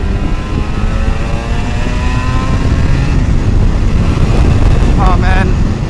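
A 1986 Yamaha TZR250 two-stroke sport motorcycle drones up through its revs pulling away from a stop, its whine climbing in pitch as it accelerates, with wind noise around it.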